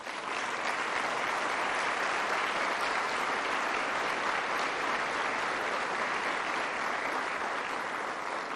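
Loud, sustained applause from a forum audience for police officers who passed their trust vetting, a dense steady wash of clapping lasting throughout with no break.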